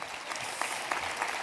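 Congregation at an international pastors' retreat church service clapping steadily, a dense even wash of hand claps throughout with no break.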